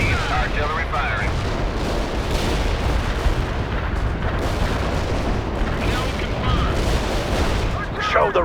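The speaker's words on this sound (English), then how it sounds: "Artillery firing." Artillery firing in the video game World in Conflict, a dense, continuous rumble of booming blasts and low roar, loud and sustained, with radio-style voices speaking over it.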